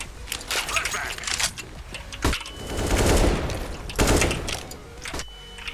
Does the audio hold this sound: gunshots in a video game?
yes